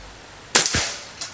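A PCP Marauder air rifle fires a single sharp shot that cracks close and loud, followed by a quick thud and a faint second tap.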